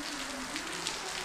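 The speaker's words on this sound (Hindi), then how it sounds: "देखो हो गई है शुरू झमाझम बारिश" Heavy rain pours down at night in Nainital as a steady, dense hiss with no gaps.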